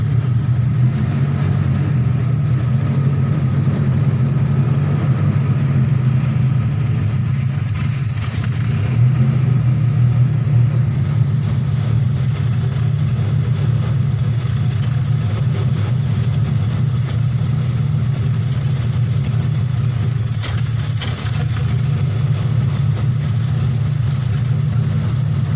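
A car engine idles steadily at 800 rpm, a continuous low, even rumble with no revving, close by and unbroken by talk.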